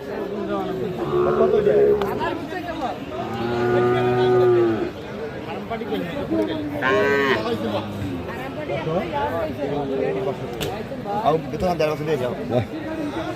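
Sahiwal cattle bellow at a busy livestock market, with two or three long, loud moos rising above the steady chatter of buyers and sellers talking nearby.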